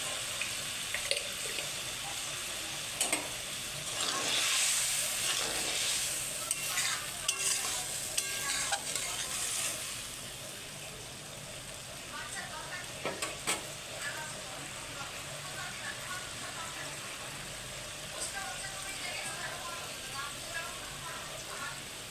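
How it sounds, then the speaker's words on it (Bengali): Fish head curry broth boils in a pan with a steady bubbling sizzle, stirred with scraping and clinking at first, then simmering more quietly; a voice speaks over it. "ঝোলটা ফুটে উঠেছে"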